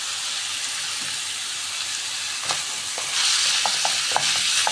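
Liver is stirred in a hot pan with green bell pepper and dried coriander, giving a steady sizzle with a few soft scrapes and clinks near the end, no talking.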